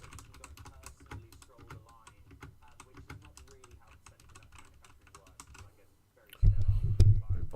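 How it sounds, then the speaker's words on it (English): Computer keyboard typing comes as quick, close, irregular key clicks running for several seconds, followed by a short pause and a louder burst of heavier thumping near the end. "You can still hear my typing, I think."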